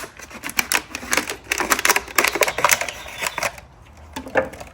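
A razor blade slices through a plastic motor oil bottle to make a funnel, giving a run of sharp, irregular scraping and crackling cuts close up, with brief pauses between strokes.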